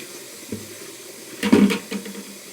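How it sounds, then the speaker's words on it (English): Water from a bag of ammunition-reloading brass splashes into a sink in a short gush, close and moderately loud, with a few smaller splashes after. "Dump the water in the sink."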